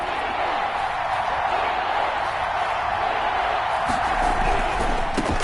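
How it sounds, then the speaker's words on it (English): A football video game stadium crowd roars steadily and loudly ahead of a big third down, a constant wash of noise with faint claps and thumps near the end. "the crowd getting into it as we come up on a big 3rd down"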